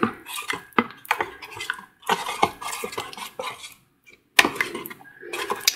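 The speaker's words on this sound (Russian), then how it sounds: "размешиваю, чтобы получилась жидкая сметана" Gypsum mixture being stirred in a bowl, with an irregular series of scraping, clinking strokes of a utensil against the bowl, close and fairly loud, pausing briefly before resuming.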